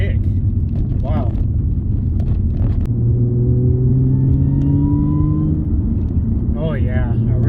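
A supercharged 2010 Audi B8 S4 with a six-speed manual revs under throttle from inside the car, a deep rising engine drone climbing in pitch and then easing off, with someone talking over it at the start and end.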